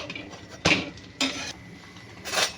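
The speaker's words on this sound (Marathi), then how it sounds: "आता ह्याला अधूनमधून असं हलवत राहायचं" Amla murabba cooking in a pot over a low flame, stirred with a spoon: three short bursts of scraping and clinking against the pot, separated by quieter stretches, close by.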